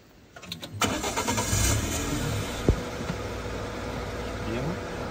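A car engine cranks and catches during a driving lesson: a short burst of starter rattling, then a steady idle that runs on, with a voice briefly heard nearby.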